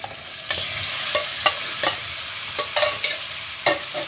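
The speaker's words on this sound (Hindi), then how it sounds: "ये चिकन जो मैरिनेट करके रखा था ये मैं डाल रही हूँ" Marinated tandoori chicken frying in oil in a pan, with a steady close sizzle broken by repeated sharp scrapes and clacks of a utensil stirring at an uneven rhythm.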